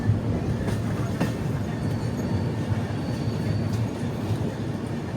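Kirandul passenger train 58501 rolls steadily along the Araku line on a curve past tunnels, a continuous low rumble of wheels and carriages close by with faint rail squeal, no voices.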